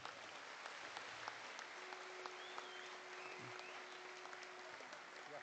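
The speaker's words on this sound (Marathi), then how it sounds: "या सर्वांसाठी एकदा जोरदार टाळ्या" Applause from the audience at a political party's anniversary rally fills the clip as steady, dense clapping, faint and distant, with a brief tone running beneath it.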